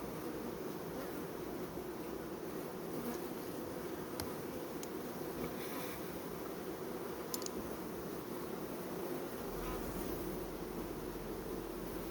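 A steady, dense buzzing of many honeybees at a two-queen hive after the honey harvest, continuous and fairly close, with faint rustling beneath.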